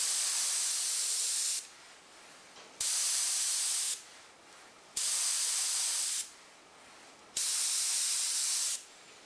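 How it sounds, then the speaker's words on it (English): Four long hissing bursts of spray, each about a second and a half, separated by short quiet gaps, loud and close with no talking. "So now we'll spray through it."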